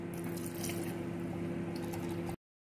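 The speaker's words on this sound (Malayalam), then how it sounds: "ഇനി നമുക്ക് അതിനകത്തോട്ട് പാലൊഴിച്ചു കൊടുക്കാം." Milk is poured into a blended mixture of peanuts, curd and sugar, giving a short, soft liquid fill with gentle splashing over a steady low hum of the kitchen, close by, with no talking.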